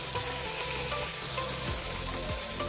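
Spices sauté in hot oil in a pan for paneer bhurji, a steady close sizzle and crackle with occasional stirring scrapes and no talking.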